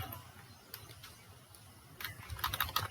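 Keys clack on a computer keyboard while HTML and jQuery code is being typed. A few isolated taps are followed by a quicker burst of keystrokes near the end, fairly faint and close.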